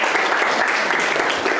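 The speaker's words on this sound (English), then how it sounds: "Let's give him a round of applause, ladies and gentlemen." An audience at a club general body meeting breaks into dense, loud applause for guest speaker Ron Hull of the Valiant Air Command Museum, a steady wash of clapping throughout.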